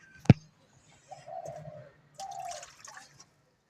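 Pigeons coo softly near their nests, which sit beside sparrow nests: two drawn-out low cooing phrases follow a single sharp drip-like tap, with quiet pauses between.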